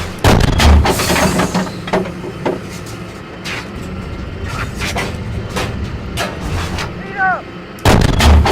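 Artillery fire in the Steel Beasts tank simulation game: several heavy booms at irregular intervals, with a pair of loud blasts at the start and end and lighter thuds between, plus a brief voice near the end.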